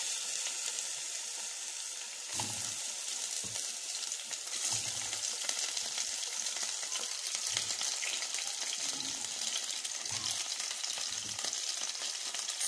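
Meat fries in ghee in a pot on a gas stove, a dense, even sizzle throughout with a few low thuds from stirring, steady and close with no talking.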